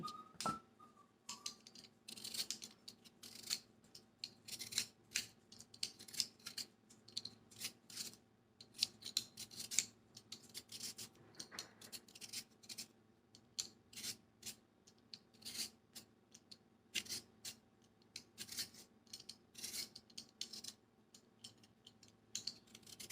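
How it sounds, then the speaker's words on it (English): Knife slicing pieces off grilled meat, giving a run of soft scraping, rasping cuts that repeat in quick irregular strokes throughout, close and fairly quiet with no talking. "I'll take and cut all these other pieces off and see how they look on the inside."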